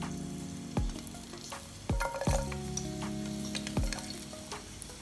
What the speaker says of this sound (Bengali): রসুনগুলোকে আমি হালকা একটু ব্রাউন কালার করে নেব